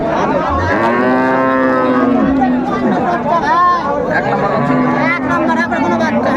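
Cows and calves at Raniganj cattle market in Dinajpur low with long drawn-out moos, several overlapping calls close by, under the steady chatter and babble of a market crowd.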